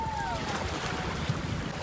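Wind buffets the microphone over gently washing waves at the Maniwaya Island sandbar, a continuous roar with a faint hint of surf beneath.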